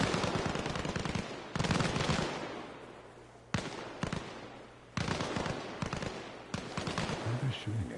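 Gunfire in the video game Arma Reforger: repeated bursts of automatic fire and shots crackle in dense clusters, broken by brief pauses, with a faint voice now and then beneath the shooting.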